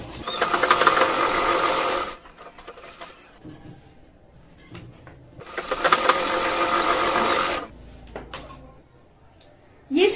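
Sewing machine running in two long bursts of stitching through salwar fabric, loud and close, separated by a quieter pause with faint handling noises and a brief restart at the end.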